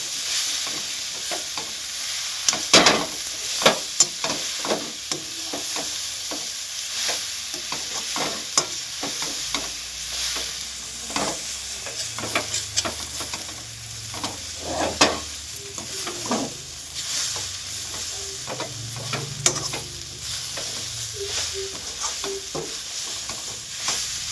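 Drumstick leaves (murungai keerai) sauté in a pan for a Tamil-style poriyal, with a steady soft sizzle and repeated scraping stirs of a spoon across the pan, close up and with no talking.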